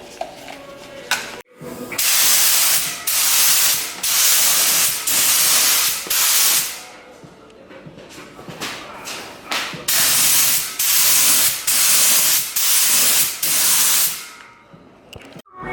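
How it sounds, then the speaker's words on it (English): Spray paint hisses out in a series of loud, sustained bursts, each a few seconds long, separated by short quieter pauses, while tinting amber car taillights. "So we're pretty much ready to start spraying"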